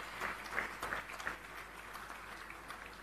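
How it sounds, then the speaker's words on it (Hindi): Steady applause fills the hall at the inauguration of the Chandigarh Police complex, a dense, moderately faint patter of many hands that continues without pause. "हरनाज सिकंद, तालियां बजती रहें क्योंकि ये प्रयास बहुत ही सराहनीय हैं।"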